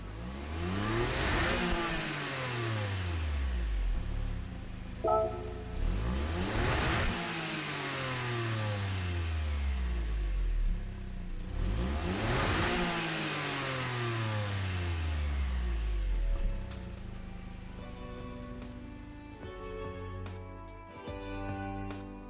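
Honda N1 RS engine in Gran Turismo 7, revving up hard through repeated gear changes, each pull rising in pitch before dropping at the shift, loud and close, then settling to lighter throttle at the end.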